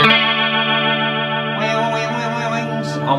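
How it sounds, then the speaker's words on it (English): A heavy flanger on a Marshall MG15HCFX mini stack amp colours a sustained electric guitar chord, its jet-like sweep rising near the end, loud and close with no voices. "And a lot of flanger."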